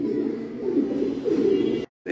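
Fancy pigeons, fantails and young giant homers, coo in a low, throaty burble that swells in two waves close by before cutting off abruptly, with no talk.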